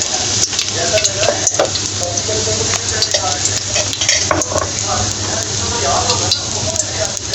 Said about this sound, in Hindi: लहसुन को अच्छे से फ्राई करेंगे।